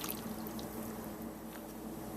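White wine is poured into a pan of East Indian chicken curry, a soft, steady trickle of liquid heard close up and faintly for a brief moment.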